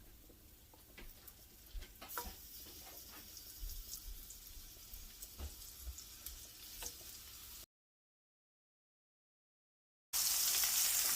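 Food sizzles and crackles in a hot pan with scattered pops and spits, then the sound cuts out briefly before resuming louder.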